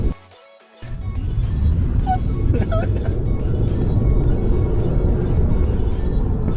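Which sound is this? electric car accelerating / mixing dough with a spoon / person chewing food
electric car accelerating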